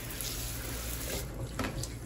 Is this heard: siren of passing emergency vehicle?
no